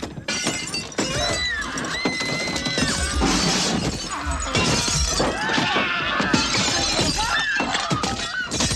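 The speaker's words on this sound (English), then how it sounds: "They're breaking through real glass and tearing through real metal." Real glass shattering and metal crashing as cars are smashed in a Mad Max post-apocalyptic action film, a dense run of breaking and crunching impacts over several seconds amid rumbling noise.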